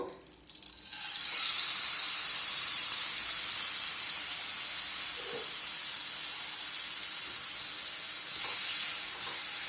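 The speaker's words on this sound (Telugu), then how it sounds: "వేసుకొని ఒక 2 నిమిషాల పాటు బాగా ఇలా ఫ్రై చేసుకుందామండి" Marinated chicken liver dropped into a hot pan on the stove, loud sizzling that starts abruptly after a brief quiet moment and then hisses steadily and continuously, close and strong, with occasional small pops.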